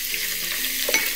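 Soy protein sizzles steadily in a pan with sesame oil, a constant close frying hiss broken by a few soft scrapes of stirring.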